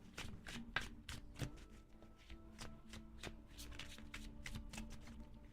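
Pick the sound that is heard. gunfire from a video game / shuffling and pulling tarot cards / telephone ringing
shuffling and pulling tarot cards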